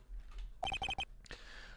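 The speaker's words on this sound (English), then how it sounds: "my phone alarm to say, take my meds." A phone alarm goes off as a medication reminder: a quick burst of about five bright electronic beeps in a tight rhythm, fairly close, followed by quiet background.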